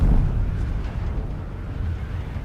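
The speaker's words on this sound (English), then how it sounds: "Was that an explosion? Oh, it was." A deep, rumbling explosion in the game Dune Awakening, a heavy low boom at the start that rolls on as a loud, fading roar.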